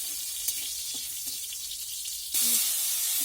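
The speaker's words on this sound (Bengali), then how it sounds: "এরপর রসুন আর লঙ্কা দিয়ে দিলাম, বেশ ভালো দিয়ে দিলাম, ভালো করে ভেজে নেবো লাল করে" Garlic and chilli frying in palm oil in a wok, a continuous soft sizzle with a few small clinks, swelling into a louder hiss near the end.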